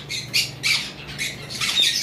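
Lutino Fischer's lovebirds squawk in short, shrill bursts, several harsh calls repeating in quick succession close by with no talk.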